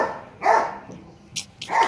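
Male Rottweiler, ten months old, gives two sharp barks about a second apart, close and loud, with a faint higher yip in between.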